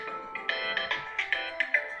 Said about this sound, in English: a spam phone call